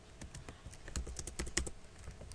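Rapid typing on a computer keyboard, a quick run of crisp key clicks with a few louder taps, close and alone with no voice.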